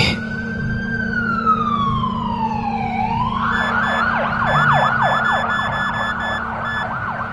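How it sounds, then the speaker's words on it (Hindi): A loud electronic siren wails in a long descending sweep, then switches to a rapid warbling yelp that repeats steadily over a low traffic rumble. "एम्बुलेंस की सायरन"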